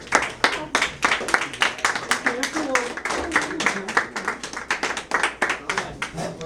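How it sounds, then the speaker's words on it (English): A small audience claps for tournament contestants at a live artist event, with sharp, uneven hand claps throughout and voices chattering underneath. "Let's give them a round of applause"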